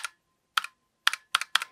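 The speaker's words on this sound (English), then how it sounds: "the keys give this awful ring noise if you bang on them" Clicky purple switches on a Razer Huntsman Mini keyboard, struck in five separate presses that each give a sharp double click with a faint metallic ring, close and clear with silence between.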